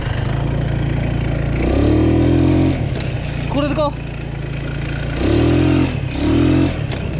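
A stunt scooter engine idles with a low rumble, then is twice revved hard at full throttle in loud, rising bursts. Someone talks between the revs.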